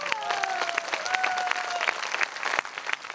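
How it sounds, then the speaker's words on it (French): An indoor audience claps for the newly elected Miss Hérisson 85 at a local celebration. The applause is dense and steady for about three seconds, with faint tonal voices or whistles over it, then thins slightly near the end. "Vous pouvez l'applaudir pendant qu'elle est là."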